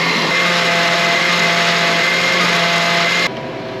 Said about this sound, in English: This blender has a setting called liquefy,